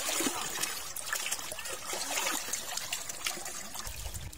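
Water trickling steadily in a rural countryside spot, a continuous splashing dribble heard close and fairly loud without pause.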